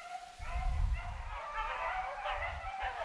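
A beagle hound barks and yips during a rabbit hunt in Michigan, a few close bursts in quick succession with some whimpering tones, outdoors.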